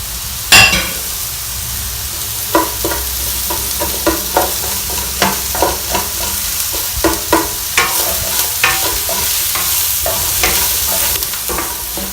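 Onions frying with Himalayan salt in a hot pan, a constant close sizzle punctuated by a steady series of sharp scraping clicks as a utensil stirs them roughly every half second to second, with no speech.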